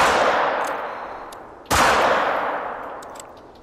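Rifle shots in the hunting video game theHunter: Call of the Wild, two loud, close single cracks about a second and a half apart, each trailing off into a long echoing decay.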